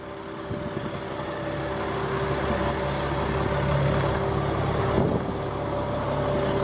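A 2000 Itasca Horizon 36LD Class A diesel pusher motorhome idles with a steady, low, droning rumble and a faint whine, holding a constant level throughout with no speech.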